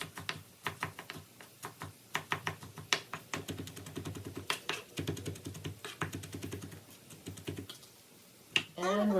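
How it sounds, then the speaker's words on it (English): Knife finely chopping zucchini on a cutting board, a fast, steady run of close, crisp taps continuing for most of the time, with a short pause and a voice just at the end. "I'm just going to use this knife and cut it as finely as I can"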